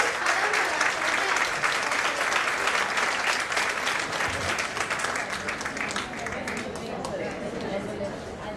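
Audience applause at a 2023 Independence Day celebration program, a dense, steady wash of many hands clapping that holds for about eight seconds before easing slightly toward the end.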